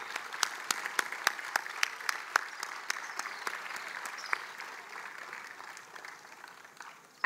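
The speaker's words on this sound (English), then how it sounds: "Please give a huge round of applause to our youngest eagles here." An audience at a school event applauding the youngest performers, a fairly faint wash of clapping with a few sharp individual claps near the front, thinning toward the end.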